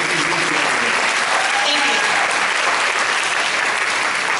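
A convention audience at an X-Files panel claps loudly and steadily in a dense, sustained burst throughout.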